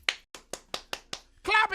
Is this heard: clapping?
yes